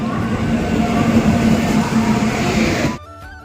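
The Hirakud Express running from Brahmapur to Delhi gives a loud, continuous rumble and rattle heard from on board, which stops abruptly toward the end.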